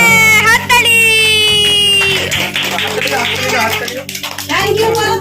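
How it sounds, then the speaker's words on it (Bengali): Guests clap along at a second birthday party, quick rhythmic hand claps mixed with singing and excited voices, fairly close and loud throughout. "হাততালি।"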